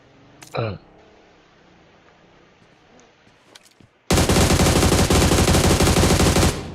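A short burst of gunfire in PUBG Mobile, then quiet with faint clicks, before a long loud sustained stream of automatic fire runs to the end.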